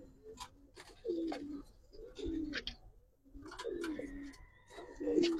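Giribaz and coloured pigeons give a series of soft, repeated coos in bursts with short gaps, fairly faint and close, with light rustling between calls.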